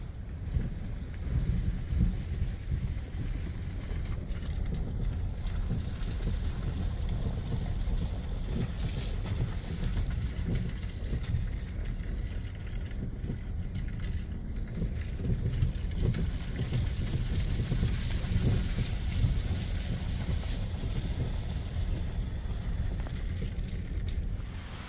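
A boat cruises by on open water, a steady low engine drone mixed with wind buffeting the microphone and soft wash of waves, continuous throughout with no voices.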